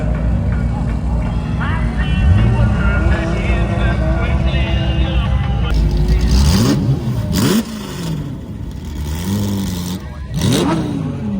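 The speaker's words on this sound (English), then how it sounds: "We've got more cars going down the runway." Supercars at a London car festival rev and accelerate along a runway, engines rising in pitch and passing one after another, loud and close over steady crowd chatter and people talking.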